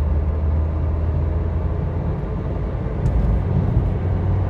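A car with a CVT transmission drones steadily from inside the cabin, a low continuous rumble with a slight change in pitch as the transmission shifts.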